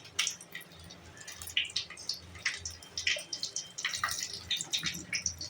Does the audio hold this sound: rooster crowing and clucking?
no